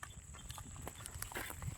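A bull walks over the ground, its hooves landing in a few soft, uneven clops close by, faint against a low background hum.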